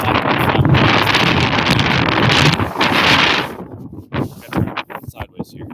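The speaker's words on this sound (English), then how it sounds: "It just got ridiculously windy." Strong gusts batter the microphone with loud rumbling buffets, then ease into choppy bursts of wind noise near the end.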